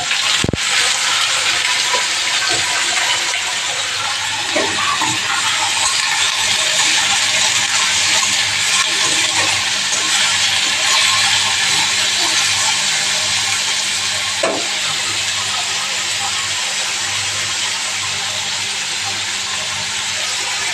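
Finely chopped potatoes frying in hot oil for a home-cooked bhujia, a steady broadband sizzle and hiss running throughout with occasional faint clinks, close and continuous with no talking.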